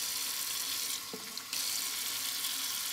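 Tap water runs steadily into the tank of a Bissell CrossWave floor and rug wet-dry vacuum mop, a close, continuous hiss and splash that briefly shifts pitch midway, with no talking.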